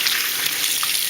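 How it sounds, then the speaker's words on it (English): Warm tap water runs steadily over hands being washed, a continuous close hiss of flowing water from start to finish with no voices. "give your hands a nice wash."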